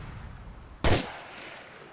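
A single burst of gunfire in GTA: The Ballad of Gay Tony, loud and sharp for a moment, then the game's background ambience carries on.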